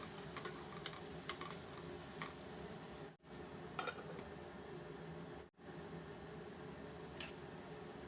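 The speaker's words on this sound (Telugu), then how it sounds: "ఆనియన్స్ బాగా బ్రౌన్ కలర్ వచ్చే వరకు వేగుతాము" Sliced onions fry steadily in a pan with turmeric and salt while they brown for a sesame gutti dondakaya curry, giving a continuous close sizzle with occasional stirring scrapes and two abrupt cuts to silence.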